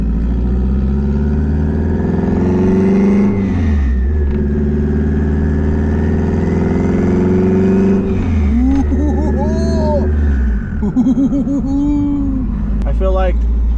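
Turbocharged Honda K24 engine in a hatchback, loud and close, holding a steady cruising drone, then revving up and falling back with whistling turbo tones; no talk over it.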